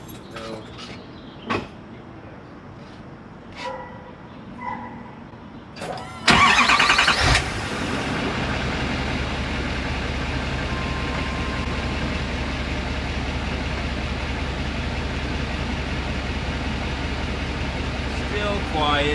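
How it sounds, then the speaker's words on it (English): An L5P Duramax diesel engine in a pickup truck cranks and fires up after a few scattered knocks and clicks, then settles into a steady, low, rumbling idle close by. "This is what a L5P Duramax sounds like."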